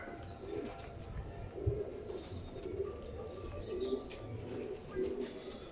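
Kamagar pigeons coo in repeated soft, low throaty phrases at moderate distance, with faint chirps from other birds and light background rustle throughout.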